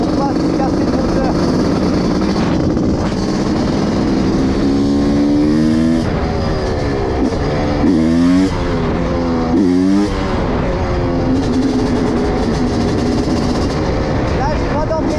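A 500cc CR motorcycle set up as a supermoto revs up and down repeatedly, rising and falling in pitch over a steady rumble, loud and close, with a voice speaking over it.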